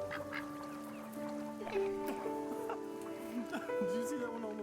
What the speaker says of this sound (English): the ducks love the bread